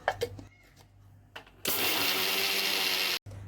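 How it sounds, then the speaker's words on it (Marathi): After a few faint clicks and knocks, a mixer grinder grinding roasted sesame seeds whirs loudly at high speed for about a second and a half, then cuts off abruptly. "इथे भाजलेले तीळ घेतलेत आता ते आपण मिक्सरला बारीक करून घेऊ"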